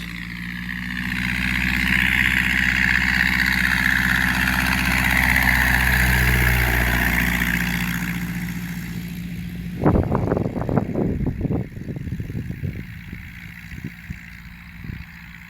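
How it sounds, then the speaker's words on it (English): A 40-horsepower Model A car engine powering a 1934 Pietenpol Aircamper aircraft drones steadily, rising and swelling in pitch before cutting to a rough, sputtering idle with uneven popping beats. "That's 40 horsepower, Model A car engine."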